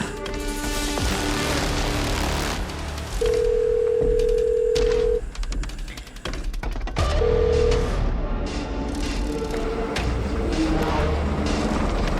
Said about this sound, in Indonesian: Aku telepon coba.